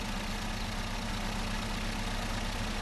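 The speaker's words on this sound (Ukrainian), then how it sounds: "Тормозим. Не глушимо мотор." A pickup truck engine idles in a driving game, a steady loud low rumble that holds without a break and with no talk over it.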